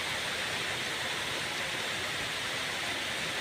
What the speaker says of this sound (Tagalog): Buhos na buhos talaga ngayon